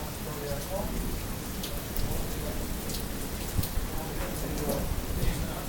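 Heavy rain with hail during a Wyoming thunderstorm, a dense constant hiss of falling water with scattered sharper impacts throughout, loud and close.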